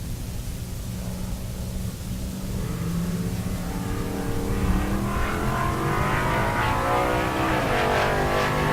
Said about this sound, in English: And that's Steve Smith, the 68 Chevelle.